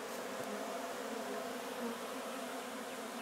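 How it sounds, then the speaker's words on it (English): A dense swarm of honey bees congregates at a hive relocated out of a gas tank, making a steady, close buzzing drone with no talking over it. "we got the bees that are congregating"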